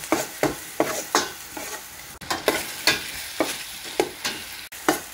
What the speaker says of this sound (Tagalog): Lagyan natin yung bawang, gisahin. Sibuyas, the onions, lagyan natin yung onion.